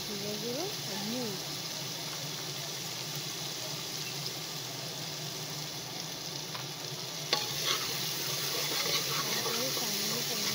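Red chilli, cumin powder and salt stirred together in a hot pan: a constant soft sizzle and the scrape of stirring continue throughout, with a voice talking early on and a louder clatter near the end.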